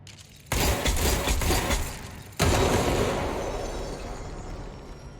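Weapon fire in the game Control: two heavy, booming blasts about two seconds apart, each bursting loudly and then trailing off in a long rumbling, crackling decay.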